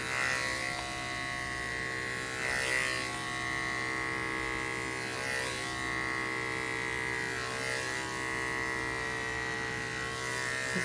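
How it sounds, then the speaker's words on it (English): Electric clippers buzz steadily through a big, heavily matted cat's fur, a close, continuous motor hum with slight swells as the blades move through the coat. "I'm shaving here."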